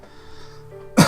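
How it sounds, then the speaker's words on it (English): A single short, sharp cough bursts out close to the microphone at the very end, after a near-silent moment. "now I start coughing now that I've pressed record"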